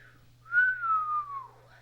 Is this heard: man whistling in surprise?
yes